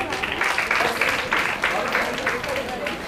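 Applause from an audience at a welcome event after a sung Ganesh invocation, the dense clapping fairly close and steady, rising and falling in bursts for about three seconds with a voice talking over it.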